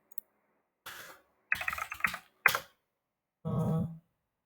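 Typing on a computer keyboard while writing code: short separate bursts of clattering key presses, some sharp single clicks and then a longer run of keys, close and clear with quiet pauses between them.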